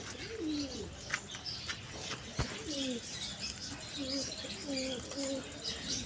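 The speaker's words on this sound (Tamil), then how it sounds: "இது என்ன புறான்னு கேட்டிங்கன்னா ஃபேன்டெயிலு ஃபேன்சி தான் இருக்குது." Fantail pigeons coo in a loft in Chennai, soft repeated rolling calls from several birds close by, along with light chirps and a few wing flaps.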